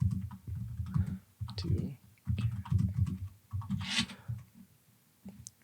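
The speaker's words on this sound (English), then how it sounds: "I'm so bad at typing on this keyboard." Someone types on a computer keyboard, producing close, uneven bursts of clicking keystrokes separated by short pauses.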